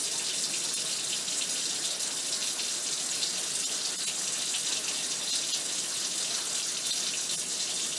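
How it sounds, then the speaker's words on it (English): Running water from a tap pours steadily and close throughout during a surgical hand scrub, with hands and fingertips worked under the stream, no voices. "I'm going to scrub the tips at least 10 times"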